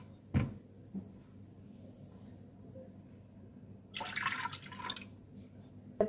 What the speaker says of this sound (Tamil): 2 டம்ளர் தண்ணி ஊற்றிக்கிறேன்.